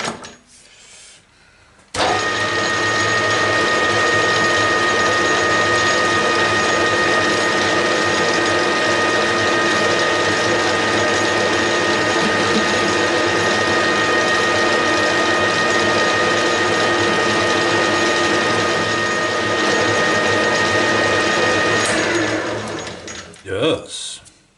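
A rusty lathe taking a face cut with a diamond tool holder gives a loud, steady mechanical whir and gear hum with a sustained tonal whine, starting abruptly and running for over twenty seconds before spinning down.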